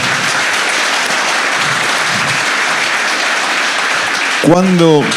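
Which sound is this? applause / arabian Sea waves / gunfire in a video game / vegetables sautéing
applause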